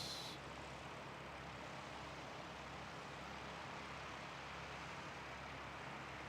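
A Qantas airliner on its downwind run passes overhead as a steady, distant broadband engine roar, faint and unbroken from start to finish.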